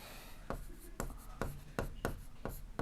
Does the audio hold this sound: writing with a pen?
yes